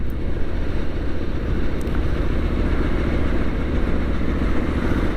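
Triumph Street Scrambler 900 motorcycle engine running steadily on a ride, a continuous loud rumble mixed with heavy wind buffeting across the microphone, with no pauses or talk.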